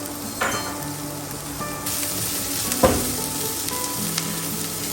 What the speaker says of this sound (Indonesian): Tumis selama kurang lebih 30 detik saja hingga wangi menyebar merata